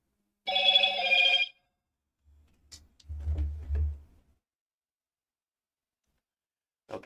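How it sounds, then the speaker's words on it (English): A mobile phone gives a short ringtone chirp, followed by a few faint low thumps and a brief tone again at the end, in an otherwise quiet room late at night. "Thought I turned my phone off."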